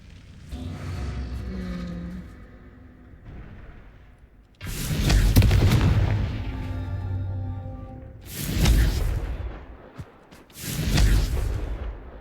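Confringo fire spell blasts in the video game Hogwarts Legacy, three loud booming bursts with whooshing tails that arrive after a quieter stretch of game ambience, each blast sounding close and heavy.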